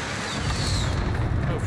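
Cluster strike explosions in Call of Duty Warzone (Cold War era) rumble as a continuous dense barrage of booms and crackling blasts across the whole moment, loud and close, with a player's voice talking over it.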